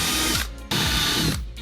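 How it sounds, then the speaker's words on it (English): A drill bores out the speaker rivets in a VW Caddy R, with two loud whirring bursts that bog down as each rivet gives way, separated by brief pauses. "the first job to get our new speakers installed is to drill out all of these rivets"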